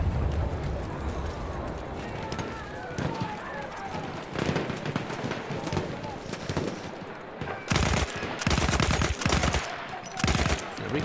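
Rapid bursts of machine gun fire from a Battlefield 1 PC campaign battle, loud, dense and repeated, with sharp rattling volleys toward the end over chaotic background combat noise.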